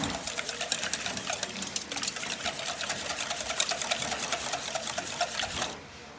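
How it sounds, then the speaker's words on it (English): A whisk stirs a milk-based seasoned mixture with black pepper and salt for au gratin potatoes, producing a fast, steady rhythmic clatter against the bowl that runs close and continuous before stopping. "We'll stir that up a little bit with our whisk."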